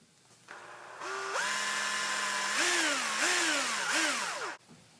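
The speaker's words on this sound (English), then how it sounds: "Now we're going to drill our pilot holes." Power drill boring pilot holes in a shotgun stock during a Saiga-12 conversion, a close whining motor that starts, holds steady, then winds up and down in three quick pulses before stopping.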